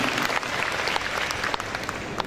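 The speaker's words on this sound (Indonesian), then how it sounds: "Tepuk tangan untuk Bapak Gubernur." A university audience claps for the governor at a lecture, a dense, continuous round of applause heard alone and moderately loud for a couple of seconds.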